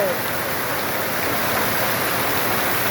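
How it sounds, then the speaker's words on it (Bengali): Heavy rain pours down steadily on a village, a dense, unbroken hiss of drops on surfaces that fills the whole stretch. "বৃষ্টি কেমনে পড়তেছে"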